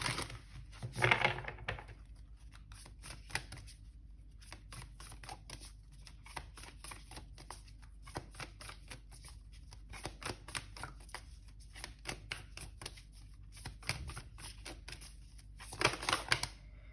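Tarot advice cards being shuffled by hand, a run of crisp papery riffles and flicks with brief pauses between bursts, fairly quiet and close.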